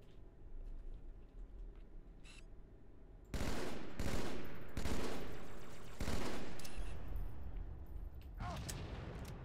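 Shotgun fire in the video game Halo 2: several loud, booming blasts in quick succession, each followed by a short rumbling tail over a low game background.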